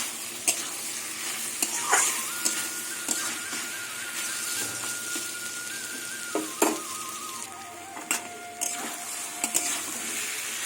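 Taro greens cooked with chana dal fry gently in oil in a wok over a lowered gas flame, giving a constant soft sizzle dotted with scattered spatula clacks and scrapes, while a faint steady whine runs underneath.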